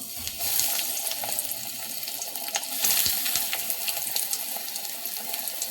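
Eggplant slices hiss loudly as they go into hot white oil in a wok, a dense, steady close-up sizzle with faint crackles running throughout.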